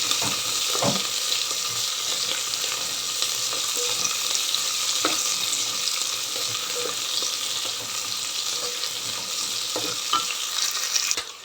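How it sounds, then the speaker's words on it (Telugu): Onion frying lightly in hot oil with a half tablespoon of cumin seeds, making a continuous, even sizzle and crackle with a few sharper pops scattered throughout. "ఇప్పుడు ఆనియన్ లైట్గా వేగనిద్దాం"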